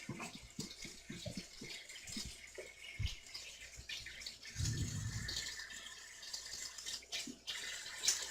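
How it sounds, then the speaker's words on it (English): Cold water from the tap pours into a plugged kitchen sink that holds beets, a steady rushing splash close by, with a few clunks and drips along the way. "just plug my sink and just allow it to fill up with cold water"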